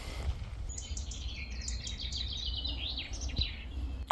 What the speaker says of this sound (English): How still, just birds and that's it.